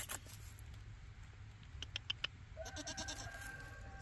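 A goat gives a faint, short bleat after a few soft taps and rustles in a quiet space.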